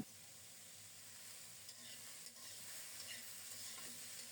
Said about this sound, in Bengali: নেড়ে চেড়ে সব কিছু ভালোভাবে মিশিয়ে ঢেকে ঢেকে রান্না করব